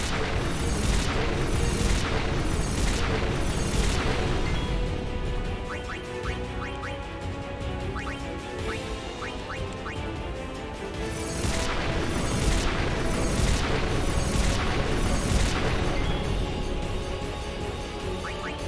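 A fire spell is cast underwater in Final Fantasy X, a series of loud, regularly repeating booming bursts over a continuous rumbling battle backdrop, with a brief lull in the middle.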